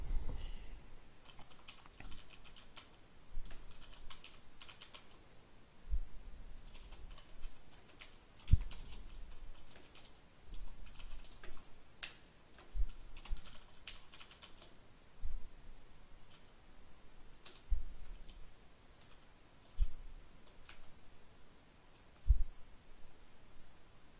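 Computer keyboard typing in irregular bursts of soft clicks and sharper key taps, fairly quiet and close, with no voices over it.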